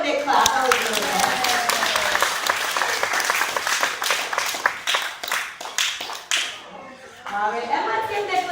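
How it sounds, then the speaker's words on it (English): Audience applause at a parrot show at Pleasurewood Hills, Great Yarmouth: sustained, dense clapping from a crowd that swells and then tapers off, with a presenter's voice coming back in at the end. "How about we give them a really big clap?"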